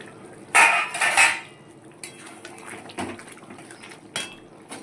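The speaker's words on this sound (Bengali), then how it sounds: "এটা এবার আমি ঢাকা দিয়ে দিচ্ছি।" A cooking pot is covered with its lid while making chicken maharani: two close metallic clatters of lid against pot, followed by a few fainter clinks and knocks in a quiet kitchen.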